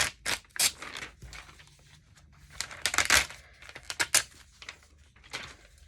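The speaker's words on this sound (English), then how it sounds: "let's cut out some of this" Paper pages being cut and torn out of a magazine for collage, with crisp irregular snipping and tearing bursts close up, separated by short quiet gaps.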